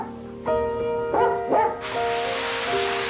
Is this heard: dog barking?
yes